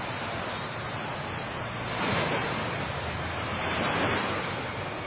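Sea water returns to shore after a 7.6 magnitude earthquake, a broad rushing surge that swells twice and recedes, with wind noise over the microphone.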